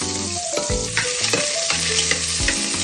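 Onions frying in hot mustard oil and ghee with cinnamon, cloves, cardamom, black pepper and bay leaves: a steady close sizzle broken by repeated scraping stirs, with a tonal hum running underneath and no voices.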